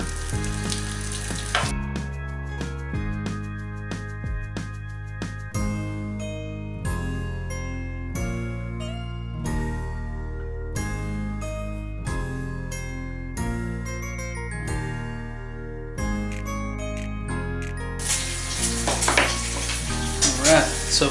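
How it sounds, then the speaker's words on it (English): Guanciale frying in olive oil over medium heat, a crackling sizzle with bursts of spatter at the start and end, heard beneath steady music that carries through the middle. "over medium heat, your guanciale, or your pancetta, or your bacon"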